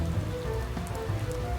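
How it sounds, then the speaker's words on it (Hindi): Cartoon hailstones pelting a house, garden and cornfield in a dense, steady patter, loud and close, with occasional sharper pops over the constant drumming. "ये ओले गिरना बंद हो जाए"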